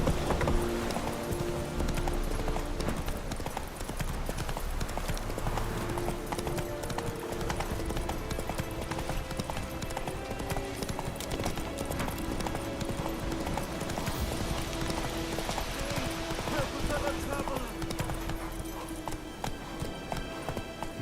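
Roach the horse galloping in The Witcher 3, a rapid, steady clip-clop of hooves running on without pause, with faint game sounds and a brief neigh in the background.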